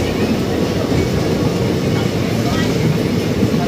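The Maa Tara Express runs at full speed after leaving Bardhaman Junction, a loud, steady rushing rumble heard from inside the train, with no break in the noise.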